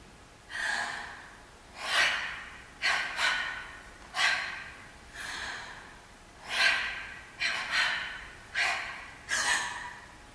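Rhythmic breaths during flash mob dance choreography, about ten sharp, close inhales and exhales in an uneven pulse with no talking.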